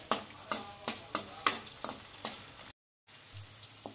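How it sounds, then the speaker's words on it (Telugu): Onions fry in a pan for a liver fry, sizzling softly while a spoon scrapes and stirs in regular strokes, followed by a brief silence and a quieter sizzle. "ఉల్లిపాయలు వేసుకొని కొంచెం వాటిని అయితే మగ్గనివ్వాలి."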